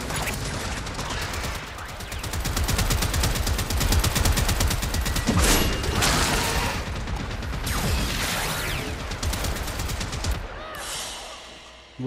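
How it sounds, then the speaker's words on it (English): Rapid automatic gunfire in the video game Warframe, dense overlapping bursts and shots with mechanical clatter and crashes, loud and continuous throughout with no speech. "Just follow my gunshot."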